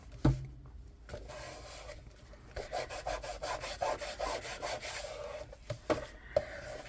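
Glued paper on a vintage-style craft album page is burnished with a hand tool, giving close, scratchy rubbing strokes in quick repeated passes with a few sharper taps.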